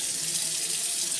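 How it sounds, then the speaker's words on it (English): Tap water runs steadily into a sink as it fills for soaking knitting, a continuous close hissing splash with no break. "now I need to start filling up my sink"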